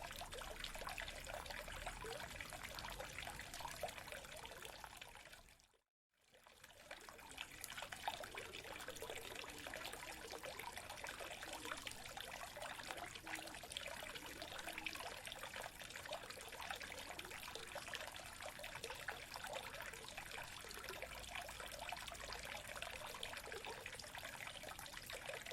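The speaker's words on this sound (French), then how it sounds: "j'arrive litre par litre à renvoyer l'eau en cascade comme ça, et j'alimente mon réservoir ici." Water trickles steadily in a cascade from three hand pumps down into a reservoir at the Féry tower in Reims, a continuous liquid splash and dribble that cuts out briefly near the start, then runs on with no voices.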